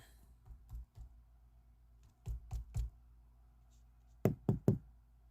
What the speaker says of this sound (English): that's me knocking the phone against the wall